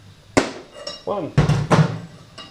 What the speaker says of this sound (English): you hit it with the cold chisel to get it off.